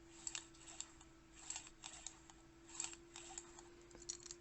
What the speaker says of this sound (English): There's just that gentle whirring sound of the cable going back and forth